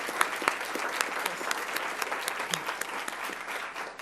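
An audience applauds a group of students, their teacher and the school principal at a Palm Beach County event, with steady, moderately distant clapping and a few sharper claps standing out.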